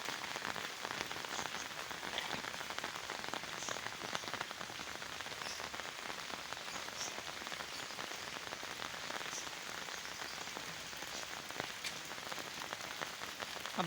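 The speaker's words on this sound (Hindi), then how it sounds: "बारिश में कुछ तेज़ी आती जा रही है।" Steady rain of the first winter shower patters on leaves, branches and surfaces around an umbrella in a city garden, a dense, even hiss of drops continuing throughout with no voices.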